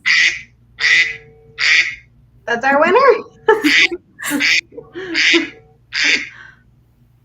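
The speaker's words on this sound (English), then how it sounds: "It's a duck." Duck quacking in a series of loud, rhythmic nasal calls, about nine in quick succession, with a person speaking briefly in the middle.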